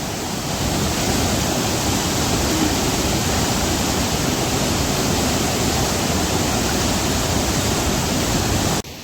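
Rushing water pours over Rondia dam in a steady, loud, broadband roar, constant and alone without any voices.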